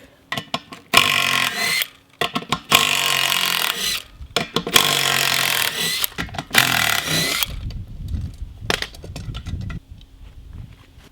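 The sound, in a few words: impact wrench with half-inch socket removing a sprint car bead lock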